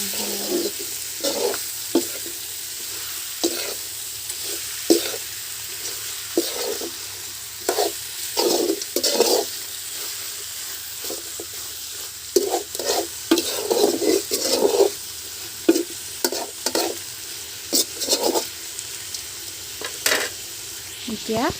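Salted duck meat is stirred in a pan while cooking for a duck and white gourd curry. Repeated bursts of scraping and stirring, close and fairly loud, break up a low, constant sizzle. No one speaks.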